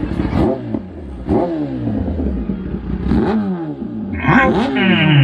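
A 10RR superbike engine revs hard several times near the listener, each blip rising and falling quickly with a raspy, clattery edge and no voices over it.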